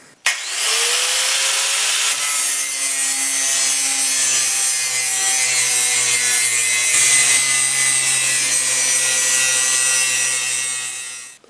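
Racing mower parts being ground down, a continuous loud abrasive grinding with a steady whining tone, running alone for about ten seconds before stopping.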